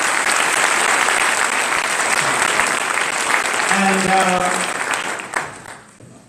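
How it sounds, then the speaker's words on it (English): An audience at a state swearing-in ceremony applauds loudly and continuously, with a voice speaking briefly over the clapping before it fades out near the end. "And please give them a nice round of applause."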